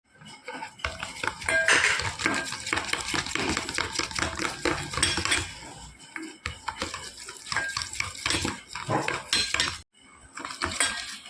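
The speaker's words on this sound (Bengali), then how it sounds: "এই তিনটেকে একসাথে আমি ভালো করে মিক্স করে নেব" Spoon scraping and clinking against a bowl while stirring a hair-mask mix of shampoo and sugar, busy rapid metallic rattles in bursts with short pauses, close and moderately quiet.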